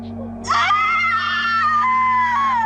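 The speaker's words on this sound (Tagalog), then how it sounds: "Yung sumisigaw." A woman screams in a single sustained, wavering high cry lasting a couple of seconds, loud and near, over a low steady hum.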